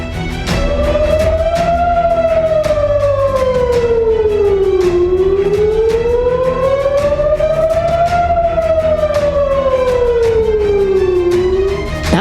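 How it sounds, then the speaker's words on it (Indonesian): A loud wailing air raid siren in Tel Aviv rises and falls in long slow sweeps during a missile attack, continuous and unbroken. "Suara sirene yang tak kunjung berhenti adalah alarm untuk warga agar segera mencari tempat berlindung."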